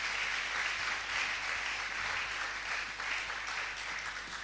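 A church congregation applauds together in praise of the Lord, a dense, steady clapping that fills the whole moment at a moderate distance.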